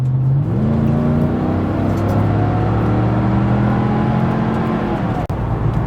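A 1998 Mercedes C43 AMG with its V8 kicking down and accelerating uphill, a loud, steady engine roar climbing in pitch through a downshift, with a brief thump near the end.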